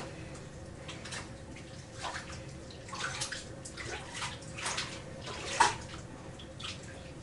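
Water runs steadily into a bathtub filled to soak a dirty shower curtain, a constant hissing wash with faint splashes and drips, moderately quiet and with no talk.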